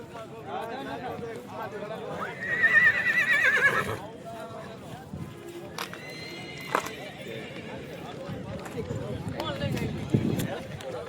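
A Kathiyawadi horse lets out a loud, drawn-out neigh, followed by scattered hoof clops on the ground while people talk over it.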